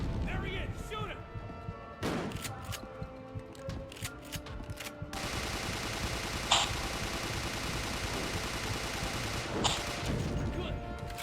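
Rapid bursts of gunfire from Resident Evil: The Darkside Chronicles, loud and dense over a busy game soundtrack, with sharp separate shots near the middle and end and a player's voice talking over the action.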